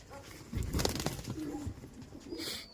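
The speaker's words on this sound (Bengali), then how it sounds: "দেখুন মালবাহী পায়রা আছে কত" Malbai pigeons coo in a bird enclosure, several soft throaty coos close by over a low background hum, with a brief higher sound near the end.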